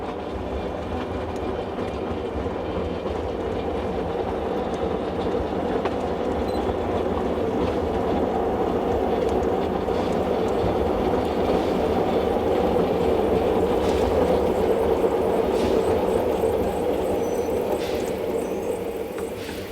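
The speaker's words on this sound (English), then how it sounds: "The locomotive is one of a pair of former Romanian locomotives, built in Vienna in 1908." A vintage steam locomotive built in Vienna in 1908, formerly Romanian, runs on an Apt rack railway in Slovakia in autumn. It gives a steady, continuous rolling rumble with faint wheel clatter, fairly close and even in level throughout.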